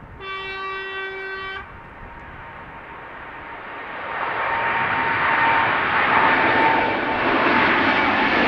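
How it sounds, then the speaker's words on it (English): A Boeing 787 Dreamliner jet passes at Amsterdam Schiphol Airport. A brief steady tone sounds first, then the engine roar swells into a broad, loud rush that stays strong to the end, with no talking. "next up is a Dreamliner"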